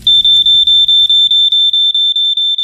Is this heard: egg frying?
no